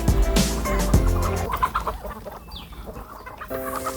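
Several farm chickens cluck and call close by at morning feeding, with a burst of loud overlapping clucks at first that settles into softer, scattered clucking.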